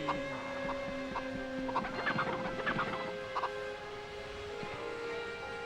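Several chickens in the MediEvil video game cluck and peck in scattered short bursts over a steady droning game background, moderately loud and close.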